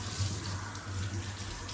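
Tap water runs steadily for a dog's rinse during grooming, a continuous close hiss and splash with low rumble, no voices.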